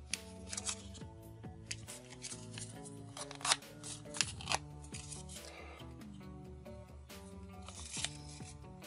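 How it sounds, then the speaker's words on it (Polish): A sheet of paper is folded into the ears of an origami cat, giving soft papery rustles, creases and small crinkling taps close to the listener, steady but quiet throughout. "bierzemy ten fragment kartki i składamy go do tego miejsca."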